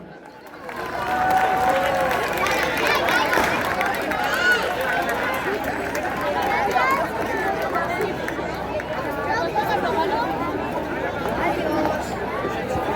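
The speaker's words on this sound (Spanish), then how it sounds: "Un aplaudiment." Outdoor crowd applauding at a summer town festival prize ceremony in La Pobla Tornesa, a long, loud, steady burst of clapping mixed with chatter and murmuring voices for about twelve seconds.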